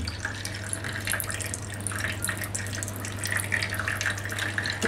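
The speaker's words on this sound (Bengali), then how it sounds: "এই যে দেখেন নিচে পানিগুলা পড়ে যাচ্ছে," Green whey water from making Dhakaiya paneer runs through folded mosquito-net cloth, a continuous close trickling and splashing of liquid with a steady low hum beneath.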